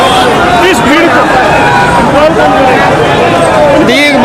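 A large gathering of protesting farmers, filled with a constant babble of many voices, shouts and calls rising and falling close by, with individual people talking loudly in the foreground.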